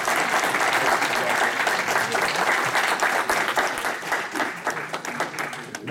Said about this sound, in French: nous pouvons applaudir très chaleureusement